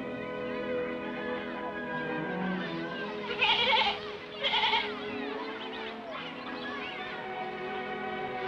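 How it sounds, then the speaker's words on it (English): A goat bleats twice in quick succession, loud and close, over a steady background hum. "A goat."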